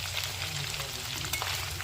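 Native quail meat sizzles steadily as it browns in a hot pan, a dense, continuous crackling fry held close and fairly loud throughout, with no voices.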